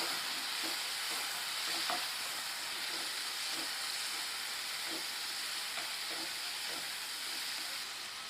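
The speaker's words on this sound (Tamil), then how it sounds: "கால் தேக்கரண்டி மஞ்சள் தூள் முக்கால் தேக்கரண்டி மிளகாய் தூள் இதை நல்லா கலந்து விட்டுக்குவோம்" Prawn masala sizzles steadily in a pan as turmeric and chili powder are stirred in, with a spoon scraping at a loose, regular rhythm close by over constant frying hiss; no one speaks.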